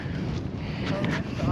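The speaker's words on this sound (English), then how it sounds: "Still windy as hell, still cold as ever." Wind buffets an outdoor microphone in a steady low rumble that stays loud and constant for a brief moment, with faint speech mixed underneath.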